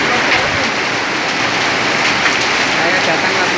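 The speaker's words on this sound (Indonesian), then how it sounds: "Saya datang langsung hujan es." Hail pours down in a hailstorm in Southwest Sumba, East Nusa Tenggara, as a dense, steady, loud roar of pelting ice with no letup.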